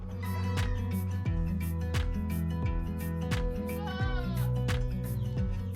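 Young Etawa goats, about four months old, bleat repeatedly at a goat farm in Karanganyar, with several loud, wavering cries following one another over steady, dense background noise.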